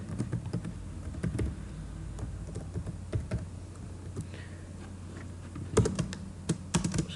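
Typing on a computer keyboard while writing HTML list items, with irregular bursts of close key clicks and taps across the whole stretch and a busier flurry near the end, with no talk.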